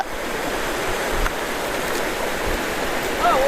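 A river stream at a riverside family outing, water rushing steadily nearby with a couple of soft splashes and a brief faint voice near the end.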